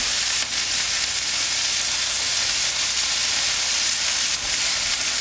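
Pieces of Wagyu brisket deckle sear in a very hot carbon steel pan, a loud, dense, continuous sizzle close by that never lets up.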